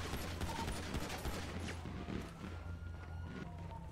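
Police gunfire in a GTA roleplay street shootout on Vespucci Boulevard, a rapid crackle of shots over busy game noise, moderately loud and steady across four seconds.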